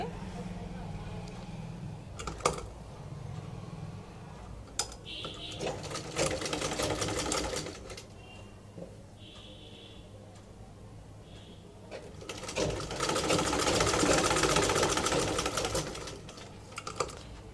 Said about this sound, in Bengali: তারপর নিচ দিক থেকে সেলাইটা করব